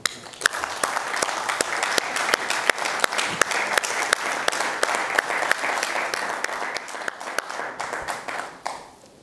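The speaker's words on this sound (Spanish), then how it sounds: "Un aplauso." Applause from an audience at a formal ceremony with ministers present, a sustained patter of many clapping hands with sharp individual claps standing out, steady for several seconds before tapering off at the end.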